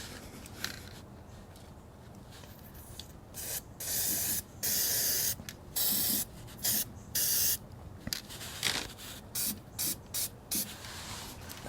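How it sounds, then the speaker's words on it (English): Aerosol can spraying coating onto a GM truck frame, in a run of loud hissing bursts of varied length, some long and some short, with brief pauses between them, close up and with no talking. "one thing about this spray, when you're done, make sure you turn it upside down and depress the button to clear any of the material out of the nozzle"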